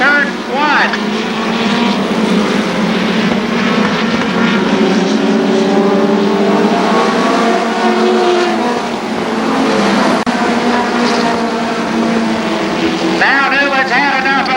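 Midget race cars engines roar steadily at Columbus Motor Speedway as they battle through turn 1, loud and continuous with rising and falling revs, while a commentator talks over the racing.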